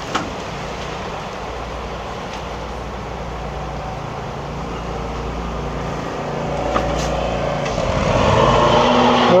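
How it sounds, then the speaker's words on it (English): A lawnmower mowed by city workers drones steadily outside, a constant low engine hum that grows slightly louder toward the end. "City workers are mowing the lawns now. So ignore the lawnmower out there."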